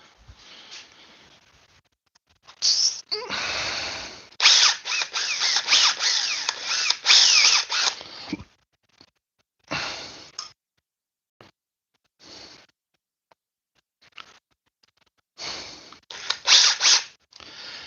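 A Milwaukee Gen 2 Surge impact driver with a 6 amp hour Forge battery drives number 10 six-inch construction screws. It runs in several long, loud rattling bursts, followed by short blips and a final burst, close to the listener.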